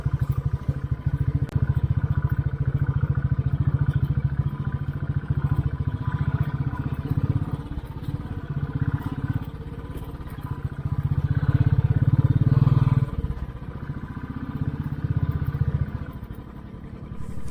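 Motorcycles ride a rough off-road trail on the way to Vanjangi near Paderu, Andhra Pradesh. A steady, loud engine drone runs throughout, with surges and rattling clatter as the bikes work over the uneven ground.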